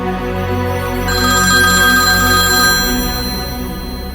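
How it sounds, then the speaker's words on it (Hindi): A phone rings loudly with a continuous electronic ringtone melody, clear and close, with no talking. "विपुल का फोन है।"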